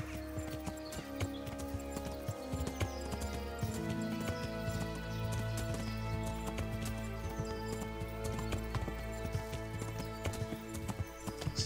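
Horse galloping in the medieval video game Kingdom Come: Deliverance, a rapid continuous clip-clop of hooves over a low rumble and layered game music, steady and moderately quiet throughout.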